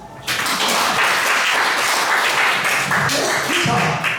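A lecture audience clapping together, a dense burst of applause that starts abruptly and holds steady for several seconds before tailing off, with a voice briefly audible near the end.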